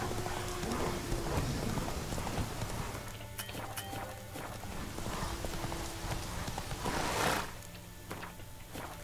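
Roach the horse galloping in Witcher 3, steady hoofbeat clip-clop running across the whole stretch with a fairly dense rhythm, under background game ambience and a brief rainy hiss.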